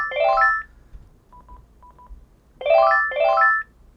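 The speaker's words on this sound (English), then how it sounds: "All of them will beep together" Panasonic cordless DECT 6.0 phone handsets beep together from the locator function: a pair of bright warbling chirps, faint short tones between, then two more warbling chirps, close by.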